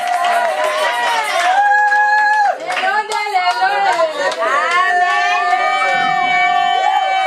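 A church congregation at a prayer marathon cheers and applauds the preacher, with loud clapping and voices raised together in acclaim, near and continuous.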